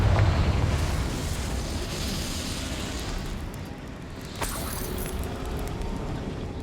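A Confringo blasting spell goes off in Hogwarts Legacy, a loud rumbling explosion that opens strongly and settles into a sustained roar, with a sharper burst about two-thirds of the way through.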